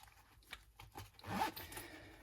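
A zipper is pulled along a plate carrier admin panel in a few short, soft rasping strokes, close and quiet.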